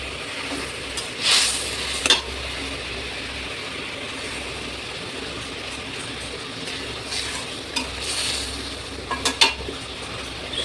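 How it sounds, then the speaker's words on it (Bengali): Fried fish slipped into a boiling curry and stirred, a low, steady bubbling hiss with a few brief scrapes and clatters of a spoon against the pot. "এবার আমি ভেজে রাখা মাছটা দিয়ে দেবো"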